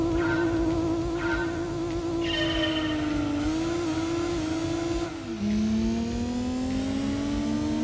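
A car engine in the PS1 racing game Gran Turismo 2 revs steadily at high RPM with a whining tone, holding a constant pitch before dropping abruptly as it shifts, then climbing again, loud and continuous with no talk.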